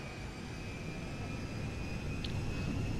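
Aircraft taking off at Zancudo airfield in the FiveM game, a faint, steady engine roar and rumble throughout, continuous and unchanging.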